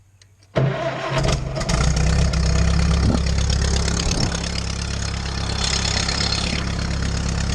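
Small stand-in engine with a broken choke cable, cranking and then catching after a half second of quiet, settling into a loud, steady, rumbling idle close by.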